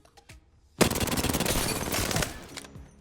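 An R99 submachine gun in Apex Legends fires one long sustained burst of rapid automatic shots, loud and close, after a few faint sounds at the start.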